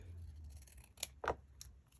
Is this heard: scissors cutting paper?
yes